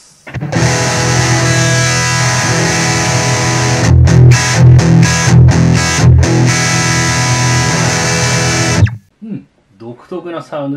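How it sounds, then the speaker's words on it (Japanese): Electric guitar through a VOX Pathfinder 10 amp on its overdrive setting, a dense distorted chord sustained for about nine seconds with a burst of choppy strums midway, then cut off as a person starts talking. "続いてオーバードライブです。"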